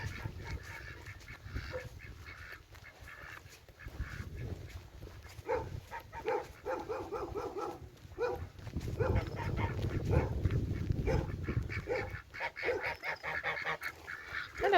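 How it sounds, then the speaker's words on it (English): Geese honk repeatedly beside a walking trail near Thompson Water on the Peddars Way, in a close, loud and irregular chorus with some bark-like calls mixed in and steady outdoor background noise. "Some more geese."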